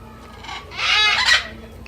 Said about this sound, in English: This is a cockatoo, everyone.